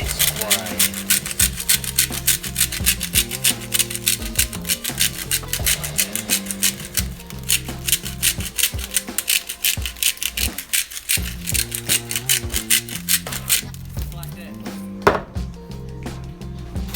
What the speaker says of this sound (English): Put it on the big side of the grinder. Just give it a nice grind.